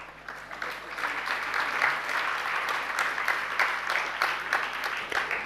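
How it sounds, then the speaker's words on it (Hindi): Audience at a Hindu-language sermon by Acharya Vidhya Sagar Ji Maharaj claps steadily, a dense sustained applause of many hands lasting throughout without a break. "आपके तालियां मुझे अच्छी नहीं लग रही।"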